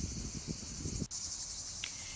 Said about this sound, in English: the local cicada responsible for the chirping we hear in the background